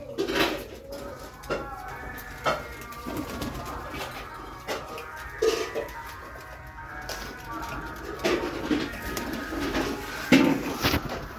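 Pigeons coo repeatedly at a pigeon sale, the low soft calls rising and falling close by, mixed with clinking of dishes or metal and murmuring voices in the background.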